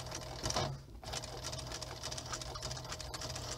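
A sewing machine runs at speed, its motor and needle making a steady, close whirring chatter that continues throughout with only a brief dip near the start and no talking.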